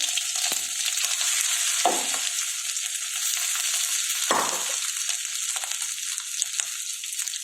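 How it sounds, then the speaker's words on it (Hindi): Potatoes and mustard seeds fry in a little oil over low heat, giving a steady bright sizzle with a few louder crackling bursts as pieces are added or stirred, close and alone without talk. "धीमी आंच पर 2 चम्मच तेल रखेंगे। राई डालेंगे, थोड़े से आलू डालकर"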